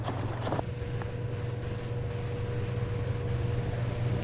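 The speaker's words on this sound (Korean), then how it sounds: "바쁘게 움직이는 쌍별 귀뚜라미들이 보이는데요" Two-spotted crickets chirp in rapid, pulsing trills close by, a continuous high buzzing over a low background hum.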